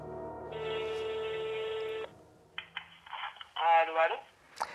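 A telephone call to a hospital in France, with a long steady ringback tone from the handset followed by brief clicks and a voice speaking over the line, close and clear.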